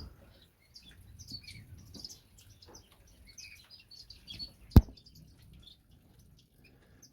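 Finches, including golden finches, and silverbills chirp in a bird shed: soft, scattered tweets at close to middle distance, with one sharp knock partway through and low background rustle.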